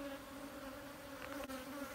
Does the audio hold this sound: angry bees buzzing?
yes